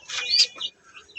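Racer pigeons, red checker and mealy birds kept for sale, give a few short chirps and a brief call, close and fairly soft, with no talk.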